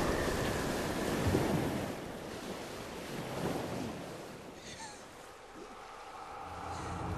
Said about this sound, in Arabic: إن الأمواج عالية.